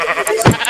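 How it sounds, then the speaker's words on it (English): A single short, close bleat from a sheep in the video game Minecraft, nasal and wavering, standing alone for under a second. "I see a creeper, I see 2 sheep. So I'm gonna try to kill the sheep."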